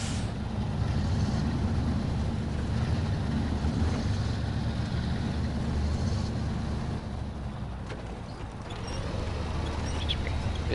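A truck engine idles and rumbles at a steady low pitch in the SnowRunner video game, continuous and fairly close, with small mechanical clunks and shifts over it and no voices.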